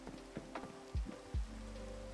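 Steady rain patters down in a modded Minecraft Sky Factory 3 world, a soft continuous hiss with low droning game ambience and a few brief thuds, no voices.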